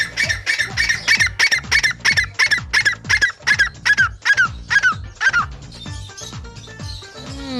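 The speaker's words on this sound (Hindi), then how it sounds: "ये जो तीतर है ईरानी तीतर है, और इसकी खासियत ये कि आप इसे जैसे आवाज़ सुनाएंगे तीतर की, आगे से बोल के सुनाएगा" An Iranian partridge at a bird show calls back after hearing its call played: a fast series of about a dozen loud, harsh squawking notes, evenly spaced, that then gives way to softer, scattered sounds.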